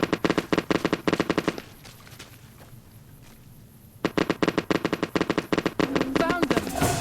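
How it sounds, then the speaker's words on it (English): Bursts of rapid automatic gunfire in the video game Fallout New Vegas, loud repeated shots with a brief lull in the middle before the firing resumes, denser toward the end. "Someone's still letting rip with a gun."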